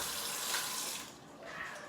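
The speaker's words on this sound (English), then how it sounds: "I like to fill it up kind of a lot, like two-ish inches over where the chickpeas are" Cold tap water pouring into a bowl of chickpeas, a steady close splashing rush that briefly eases and then continues, with no voices.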